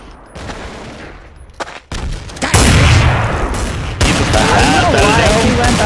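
Counter-Strike: Source gunfire, with sparse clicks and thumps giving way to loud, sustained bursts of shots and explosions that continue to the end.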